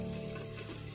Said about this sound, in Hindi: मटर में छौंका लगा दिए हैं